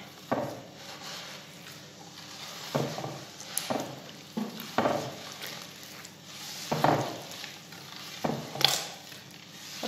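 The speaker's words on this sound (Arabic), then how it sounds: "غادي نخلط مزيان حتى تجمع هاد الزبده مع هاد البيض مع السكر" Butter, egg yolks and sugar mixed by hand in a bowl, spaced scraping and tapping strokes at close range, fairly quiet and irregular with no talk.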